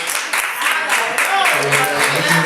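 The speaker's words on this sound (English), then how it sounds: "Let's give him a round of applause." A church congregation applauds during a sermon, steady crowd clapping that runs throughout with a voice speaking over it.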